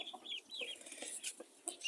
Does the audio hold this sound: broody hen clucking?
yes